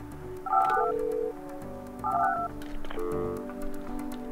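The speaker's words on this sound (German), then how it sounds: "Telefon." Telephone keypad tones sound in the office-tower building game Project Highrise, a few separate beeping dial tones in short clusters, clean and moderately quiet with no talk.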